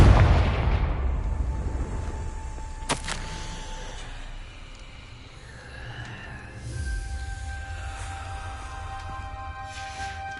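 A Confringo blasting spell in Hogwarts Legacy sets off a loud booming explosion right at the start, followed by a sharp crack and a long rumbling, ringing magical tail that fades slowly.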